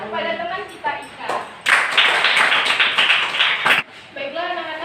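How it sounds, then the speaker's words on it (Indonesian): Classroom of children clapping for a classmate, a brief burst of brisk applause lasting about two seconds, framed by a teacher talking before and after. "Beri tepuk tangan kepada teman kita Ika."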